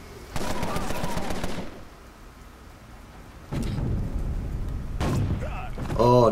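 Gunfire in the Empire of Sin game sounds as rapid bursts of shots, one burst near the start and two more later on, with quieter stretches between them and a short bit of voiced sound at the end.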